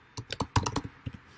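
Quick keystrokes on a computer keyboard as a track name is typed in Ableton Live, about eight close, crisp clicks in a fast uneven burst, then a short pause and two lighter taps.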